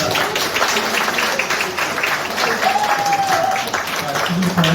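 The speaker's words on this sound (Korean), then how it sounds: "우리 강력한 개혁 당대표 김율번 정청래 후보에게 다시 한번 큰 박수 부탁드리겠습니다" A roomful of party members at a Democratic Party meeting in a Gyeongbuk provincial office conference room applauds leadership candidate Jung Chung-rae, loud continuous clapping from start to finish with a faint voice beneath.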